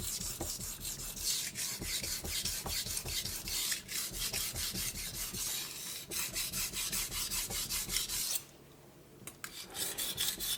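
A knife blade rasps steadily across a new Naniwa whetstone, close and continuous stroke after stroke, with the heel being worked and the burr pushed side to side, pausing briefly near the end before resuming.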